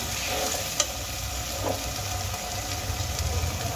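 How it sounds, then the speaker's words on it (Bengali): Pre-fried potatoes sizzle in a pan of cooked spice masala, a steady close frying hiss with occasional stirring knocks and no talking. "এবার আমি এর মধ্যে দিয়ে দেবো আগে থেকে ভেজে রাখা আলু।"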